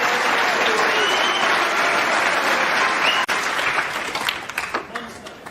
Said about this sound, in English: Well, the crowd have loved this.